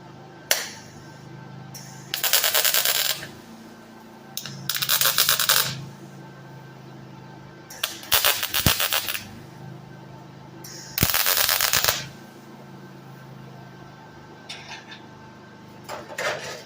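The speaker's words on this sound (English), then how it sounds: "I'm going to add a couple more tack welds from the inside." Tack welding inside a steel gasifier reactor, a few separate bursts of loud crackling arc lasting one to two seconds each, with quiet gaps between them.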